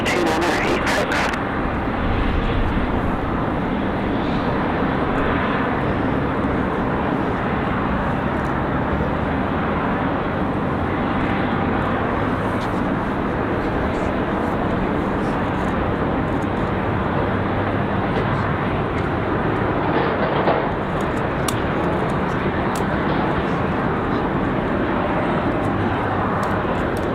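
Lufthansa Boeing 787 Dreamliner jet at Raleigh-Durham airport gives a steady, broad engine roar that holds loud throughout, with radio chatter and voices mixed underneath.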